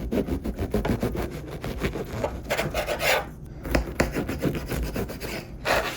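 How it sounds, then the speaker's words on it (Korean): A bread knife saws through sandwich bread with steady, rasping back-and-forth strokes, close and moderately loud, in a home kitchen. "빵칼이 이제 너무 작아가지고 이렇게 자르고"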